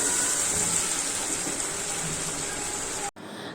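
Water poured into cooking lentil dal (red kidney bean mothi dal) in a home kitchen, a steady rushing gush that runs evenly for about three seconds and then cuts off abruptly.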